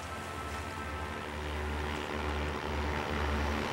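Steady drone of a propeller airplane engine, loud and close, holding a constant pitch for several seconds with no talk.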